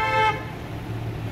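A Citroën honks once in a short blast while driving past at a car parade, the horn tone cutting off quickly and leaving steady road and engine noise behind.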